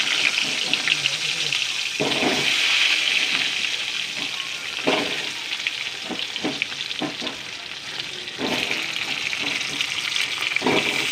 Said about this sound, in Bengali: কড়ার তেল গরম হয়ে গেছে, আলুগুলো দিয়ে দেবো।